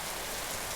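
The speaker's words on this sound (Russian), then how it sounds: "Дождь пошел." Heavy rain pours steadily in a storm with strong wind, a dense continuous hiss of falling water with no voices.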